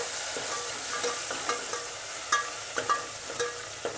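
Garlic and coriander frying in a pan, a steady close sizzle with a spoon clinking and scraping against the metal in irregular taps, no talking.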